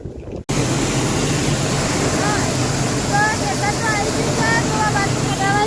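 Loud, steady mechanical drone of a tractor-driven millet thresher running nearby, a constant rumbling roar with a few faint high chirps over it.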